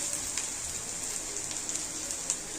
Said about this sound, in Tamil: இஞ்சி பூண்டு பேஸ்ட்டு சேர்த்துக்கலாம் சேர்த்துட்டு இந்த எண்ணெயிலேயே நல்லா வதக்கி கொடுத்துக்கலாம்